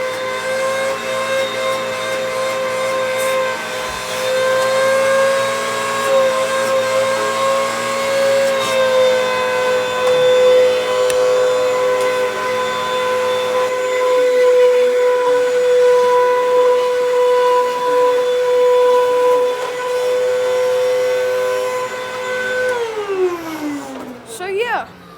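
A Bissell Powertrak Compact or Hoover Windtunnel vacuum cleaner runs loud and steady with a high whine, then winds down as it is switched off near the end.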